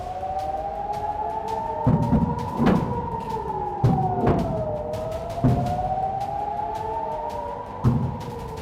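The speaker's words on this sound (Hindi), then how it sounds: "तेल अवीव और शहर के उत्तरी इलाकों में भी ड्रोन हमले की चेतावनी वाले सायरन सुनाई दिए" An air raid siren warning of a drone attack in Tel Aviv wails with a slow rising and falling tone, steady and distant, with occasional thuds and knocks in the background.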